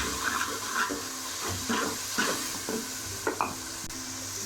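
Ginger garlic paste frying in a pan with onion and tomato for aloo matar salan, giving a close sizzle broken by several spoon stirs and scrapes in an uneven rhythm, with no voices.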